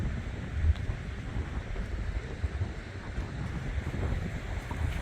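Wind and ocean surf at Emily Bay, a clear-water swimming beach on Norfolk Island, make a steady, broad rushing roar with low rumble, continuous and fairly loud, with no voices.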